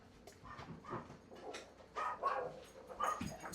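Neighbor's dogs bark in a scattered series of yips and barks, fairly faint and distant, over a quiet household background.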